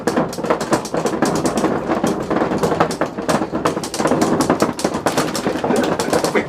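An electric fan rattles loudly and continuously, a dense, fast mechanical clattering like a ratchet that runs steadily without pause.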